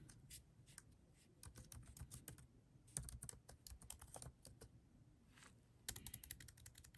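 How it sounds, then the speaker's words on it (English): Typing on a laptop keyboard, with quick bursts of light, close key clicks separated by short pauses and a faint background hum. "Hopefully your typing skills are better than mine. Also, this laptop is a little different than what I use during the day at my business."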